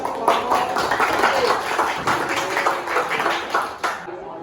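Workshop audience of teachers clapping after a group presentation, a brief burst of moderately loud claps fading out by the end.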